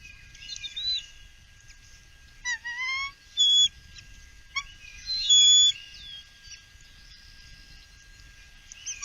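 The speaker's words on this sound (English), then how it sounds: "The female is doing some whining." A female eagle at the nest gives thin, high whining calls in several short bursts with pauses between, close and clear over a quiet background.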